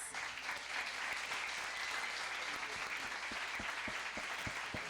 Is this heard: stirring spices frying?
no